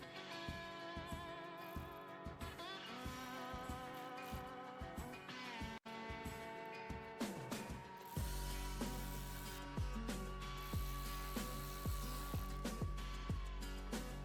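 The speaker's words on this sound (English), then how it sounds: "Insert the air tube to the air filter and tighten all hose clamps." Ratcheting clicks from tightening the hose clamps on an aftermarket air intake for a 2022+ Toyota Tundra, repeating in a steady rhythm over loud background music.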